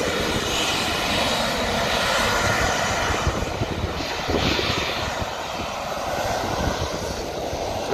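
A fixed-wing aircraft flying overhead at a camping spot in Lincolnshire, England, its engine a loud, steady drone that holds throughout.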